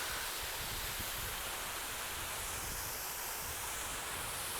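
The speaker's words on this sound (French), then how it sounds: "Bon, là, il y a une petite rivière. Et au bout, on devrait voir la cascade." A small river and waterfall in New Zealand roar as a dense, steady rush of water, close and loud, with no voices over it.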